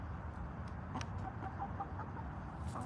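Backyard chickens cluck softly in a garden while apples are buried in the soil, with scattered low calls over steady outdoor background noise.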